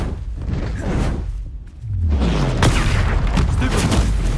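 Confringo blasting spells explode in the video game Hogwarts Legacy: loud booming blasts with whooshing swells, a brief lull, then a sustained rumbling burst.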